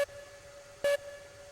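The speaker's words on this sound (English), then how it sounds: "do the double toot on the whistle" Two short tonal blasts from a steam locomotive whistle in the Railroads Online train game: a brief toot at the start, then a second clear, loud toot near the end, standing out over a low steady background.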